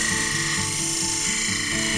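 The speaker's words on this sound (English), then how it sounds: "where the gouge no longer works efficiently, I switch to a rounded scraper" A steady whirring hum from a wood lathe with a rounded scraper working a spinning wooden bowl, a continuous tonal drone with faint rhythmic pulsing throughout.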